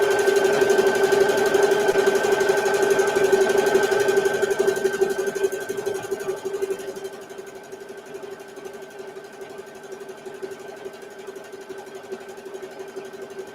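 A sewing machine stitches a microwave potato bag with a steady close mechanical hum. It runs loud for about seven seconds, then drops to a quieter idle.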